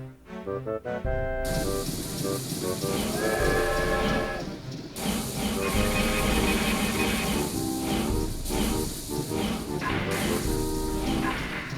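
Train departing in Banjo-Tooie, a steady loud steam hiss and rolling rail rumble with bursts of whistle-like tones and musical notes layered over it.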